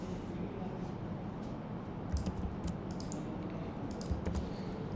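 Keys tapped on a computer keyboard while an address is entered, a few short clusters of light clicks over a soft background hum, close and faint.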